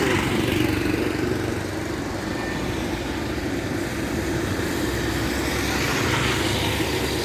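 Vehicles drive near a port where cranes load and unload ships, giving a steady broadband engine rumble and road noise that is moderately close and continuous, with no clear voices.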